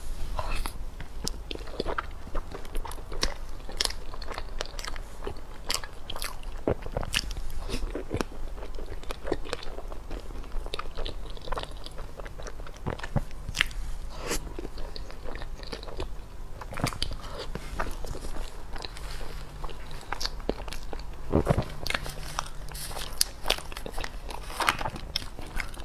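Close, crisp bites and soft wet chewing of a strawberry snow-skin mooncake mochi, repeated irregularly throughout with small crunchy crackles over a quiet background and no talking.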